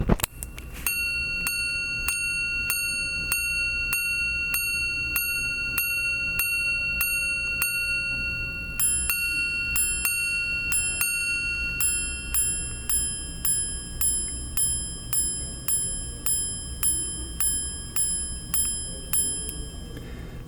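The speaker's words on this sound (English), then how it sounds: "you can hear the unique deadened but rich sound of a platinum minute repeater" Platinum Patek Philippe 5078 minute repeater chiming the time: a long series of small bright gong strikes, first single tones and then paired ding-dong strikes, deadened yet rich, close and steady with no talking.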